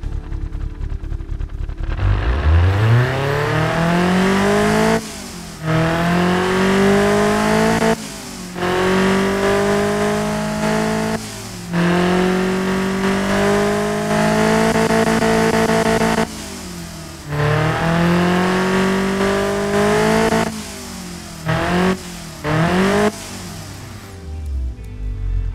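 Rebuilt 1977 Pontiac Iron Duke four-cylinder engine, a tuned build, revving repeatedly: loud close rises in pitch, held high, then sharp cuts back to idle, over and over with short pauses between pulls, no speech.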